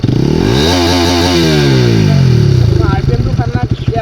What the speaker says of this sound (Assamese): বাইক তোমাৰ মানে ধুনীয়া চাউণ্ডটো শুনিয়ে